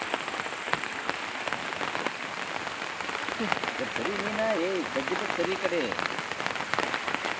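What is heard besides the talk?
rain falling on a surface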